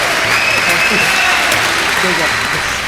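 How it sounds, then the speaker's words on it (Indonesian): Studio audience applause on a comedy talk show: a steady, loud wash of clapping that runs the whole time, with a voice faintly present beneath it. "tepuk tangan untuk Mas Aan"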